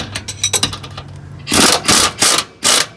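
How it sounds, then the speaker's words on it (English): A ratchet tightens the pinch bolts on a trac bar bracket mounted to a truck frame rail, with a quick run of close clicks followed by several louder, harsher ratcheting strokes. "Okay, so now I'm going to tighten up the pinch bolts."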